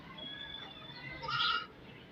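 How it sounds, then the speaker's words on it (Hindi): A single goat, a four-toothed animal kept at a home in Liaquatabad, bleats once near the end of the clip, close and fairly clear above a low hum of background noise. "4 दांत बकरी है माशाल्लाह"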